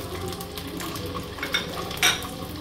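Eggs frying in a pan for a Bengali egg korma, a steady broadband sizzle with a few brief scraping stirs and a sharper clatter near the end, close and fairly quiet.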